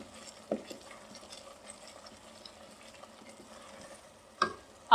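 Chickpeas with khatai powder stirred in a pan after roasting on high flame: a soft, faint background rustle broken by a few sharp spoon knocks against the pan, with the loudest taps near the end.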